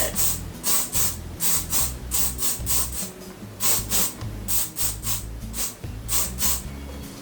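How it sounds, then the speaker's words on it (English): Repeated short hissing bursts of aerosol hairspray sprayed onto hair, in quick pairs and triplets with brief pauses, close by over faint background noise. "I'm just going to take some hairspray and spray my hair."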